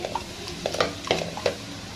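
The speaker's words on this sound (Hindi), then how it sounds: "इसका सबसे पहले हम ज़ीरे का तड़का लगाएंगे।" Cumin seeds crackle and pop in hot oil over low heat, with a few sharp clicks of stirring against the pan, close and fairly quiet.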